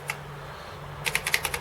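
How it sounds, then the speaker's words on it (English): Keys are pressed on an Amstrad CPC 464 home computer keyboard during testing, one click and then a quick burst of about six crisp, closely spaced keystrokes. "I'm just testing the keyboard here."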